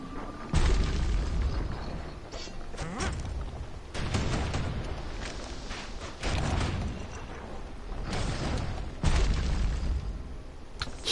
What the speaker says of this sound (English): Ooh, hand grenade.